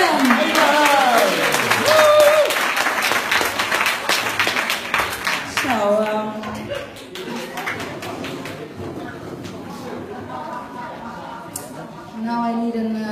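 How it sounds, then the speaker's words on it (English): Audience applause at an amateur talent show, a burst of clapping and cheering that swells early and fades within a few seconds, mixed with excited voices and speech from the crowd. "Give it a applause, Abraham!"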